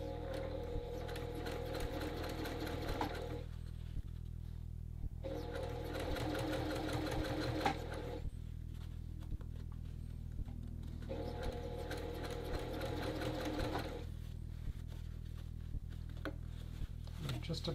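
A sewing machine stitches along a men's dress shirt in repeated bursts of quick, even needle strokes separated by short pauses, with a constant low hum underneath throughout.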